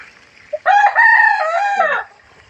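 A rooster crows once, loud and close, in a long drawn-out call that rises and then trails off.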